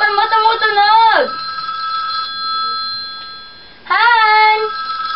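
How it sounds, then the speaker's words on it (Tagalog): A mobile phone ringtone plays loudly indoors, a warbling electronic melody that rings for about a second, pauses, then starts again, with a faint voice in the gap. "Yung cellphone mo tumutunog!"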